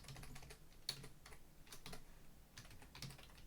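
Rapid typing on a computer keyboard, close and fairly quiet, with irregular clusters of sharp key clicks and a few louder strikes, no voices.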